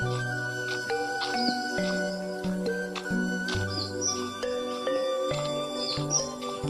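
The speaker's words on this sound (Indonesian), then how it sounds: "Yang kalian dengar di sini kebanyakan ya suara binatang-binatang kayak burung." Birds call and chirp near and far on a tropical Indonesian island, with short tweets scattered over a steady layer of tonal background sound, fairly faint overall.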